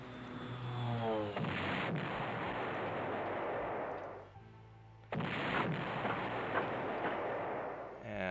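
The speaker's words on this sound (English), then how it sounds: "If I bomb the crap out of these guys" Bombing strikes in the World War II strategy game Panzer General during an invasion of the Caucasus: loud, roaring explosive barrages that cut out briefly midway, then burst back in just as heavily.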